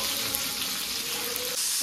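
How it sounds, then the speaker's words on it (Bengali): Steamed cauliflower pieces fry in a pan of hot oil tempered with whole cumin, giving a loud, continuous sizzle with some stirring throughout. "ফুলকপিটা একটু ভাজা ভাজা করে নেব।"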